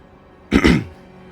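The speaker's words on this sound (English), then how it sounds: "Sorry, I had to clear my throat there." A single short, close throat clearing, a rough burst of about a third of a second against quiet background.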